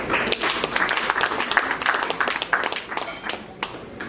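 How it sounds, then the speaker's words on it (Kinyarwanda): Scattered audience clapping at a Burundian dowry ceremony, uneven and moderately close, with a voice speaking over the claps. "By'ukuri nagire sabe mu bakomera amashyi"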